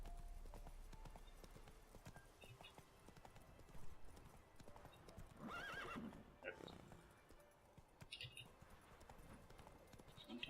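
The horse Roach gallops in The Witcher 3, with steady clip-clop hoofbeats and a whinny partway through, set among game ambience and someone talking over it.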